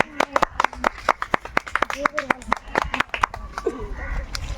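A small group claps in uneven, scattered bursts for a correct cricketer-name answer in a quiz game. The claps are sharp and close, and voices and bits of laughter mix in.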